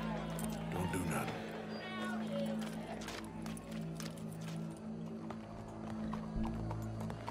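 Horse hooves clip-clopping in Red Dead Redemption 2, a steady run of soft hoof beats beneath game voices and a low musical drone.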